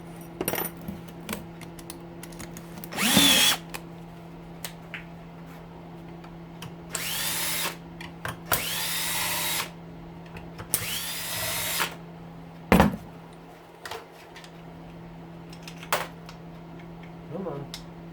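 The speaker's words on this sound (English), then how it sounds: "Star screwdriver rips it apart." An older hedge clipper is taken apart with a power screwdriver fitted with a star bit, giving several loud, close whirring bursts of a few seconds each, separated by clanks, handling noise and a low hum.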